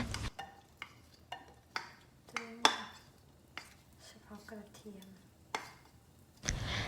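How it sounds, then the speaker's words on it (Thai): A utensil clinks and scrapes repeatedly against a pot as garlic is stir-fried in butter, with a faint sizzle and some talking beneath. "เราจะเอาตัวของกระเทียมนะคะ มาผัดกับเนยนะคะ"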